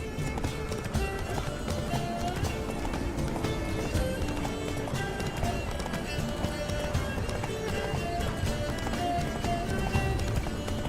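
A horse gallops in The Witcher 3, with steady rapid hoofbeats continuing throughout over game music and ambience, close and prominent.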